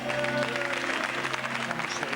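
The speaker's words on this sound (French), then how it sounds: "Vous pouvez l'applaudir." A live studio audience claps for a little girl named Julie called onto the stage of a French comedy TV show, with dense steady applause throughout and tonal music under it.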